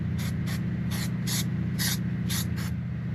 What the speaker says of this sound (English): we're going to dose it with the spray release